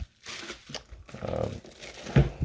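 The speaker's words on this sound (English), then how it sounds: "All right, so as we get the box open," A cardboard box holding a rechargeable C battery charger being opened, with crinkling, rustling and tearing of packaging in irregular bursts up close, ending in a soft thump.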